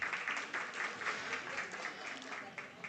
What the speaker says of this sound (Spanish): Un aplauso para mi querido alumno Yuyay.